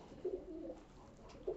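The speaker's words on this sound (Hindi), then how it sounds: "एक ये लाल कबूतर देखिए भाई, ये भी लाजवाब कबूतर है" Soft, low cooing from a red Madrasi pigeon with a white tail, two faint throaty coos with a quiet pause between them.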